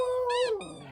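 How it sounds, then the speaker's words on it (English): A dog gives a single short, high, drawn-out howling whine that bends downward at the end, close and clear, lasting about a second. "My dogs drive me absolutely nuts sometimes. They bark like crazy maniacs"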